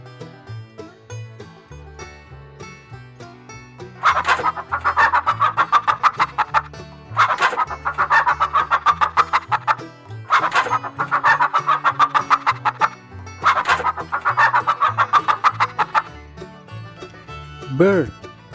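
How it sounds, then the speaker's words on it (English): A chicken clucks in repeated bursts of rapid, close cackling, four loud clustered runs separated by quieter pauses, ending on a drawn-out squawk. "Chicken."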